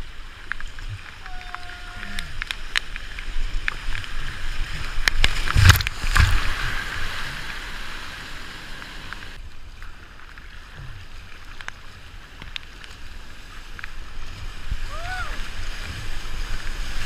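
Floodwater surges over a weir during a flood, with trees carried downstream: a steady, broad roar of rushing water with wind buffeting the microphone, occasional knocks and brief distant voices.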